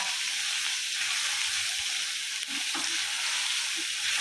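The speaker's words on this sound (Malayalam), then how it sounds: "അപ്പോൾ ഇനി ഈ ഇഞ്ചും ഈ എണ്ണയിൽ കിടന്ന് നല്ല പോലെ ഒന്ന് മുരിഞ്ഞു വയ്ക്കാം" Ginger fries in hot oil for a garlic pickle, giving a dense, even sizzle that stays close and constant throughout, with a faint clack or two from a utensil and no voices.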